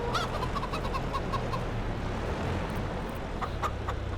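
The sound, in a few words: chickens clucking on a farm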